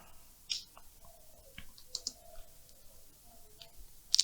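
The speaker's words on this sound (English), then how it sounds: "next thing I do is pick my type tool and I start typing beneath" Sparse, light clicks of typing on a computer keyboard, a few isolated keystrokes spread out over a few seconds, quiet and close, with no talking.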